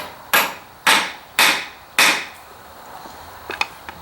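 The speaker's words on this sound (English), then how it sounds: "and then just give it a tap with the hammer." Four sharp hammer taps on a metal punch set over leather on an anvil, evenly spaced and close, followed by a few faint light knocks; no talking.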